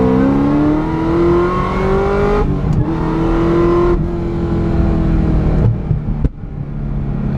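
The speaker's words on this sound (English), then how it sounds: "There's that backfire." A tuned car engine revs hard and loud nearby, pitch climbing through gears, with sharp cracks of backfire between shifts on a dusty road.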